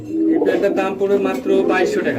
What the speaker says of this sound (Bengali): এখানে রয়েছে টাইগার কালার এক জোড়া কবুতর